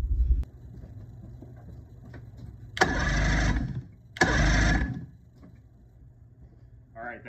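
A new starter on a 1976 Evinrude/Johnson 85 hp outboard cranks in two loud, close bursts, each lasting under a second and separated by a short pause, against a quiet background.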